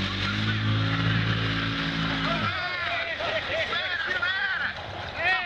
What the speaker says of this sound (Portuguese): Nunca se pode deixar parar uma moto dentro de água.